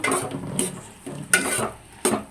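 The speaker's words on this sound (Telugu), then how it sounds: "టమాటాలను ఒకసారి కలుపుకుందాము" Spoon scraping and stirring through tomatoes in a pan while tomato dal is cooked hotel style, three distinct bursts of clinking and scraping at close range with a soft sizzle between them.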